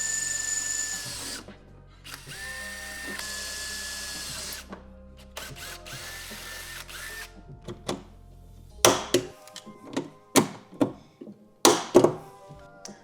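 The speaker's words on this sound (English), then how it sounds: "We'll drill these 2 holes for the additional rivets" Power drill boring rivet holes through a metal backer plate for a Polaris 2025+ front arm drop kit: a long steady whine for most of the first half, then a run of short sharp bursts and knocks, close and fairly loud.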